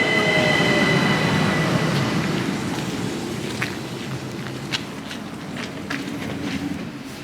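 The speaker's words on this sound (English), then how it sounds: "There is the yellow built Bad Goisern train station, and here is my train." A train pulling into the yellow Bad Goisern station in Austria: steady loud rolling rumble of wagons with clicking wheels on the rails and squealing brakes, easing slightly as it slows, no talk over it.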